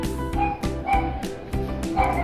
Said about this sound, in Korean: 멍멍이 짖는 소리도 들려옵니다.